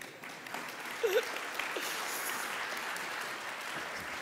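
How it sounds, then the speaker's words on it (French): Audience applause during the opening plenary of a retail technology conference, a steady, even wash of clapping from a large hall that holds at a constant level throughout, with one brief voice sound early on. "Enfin, à la répétition, vous pouvez applaudir."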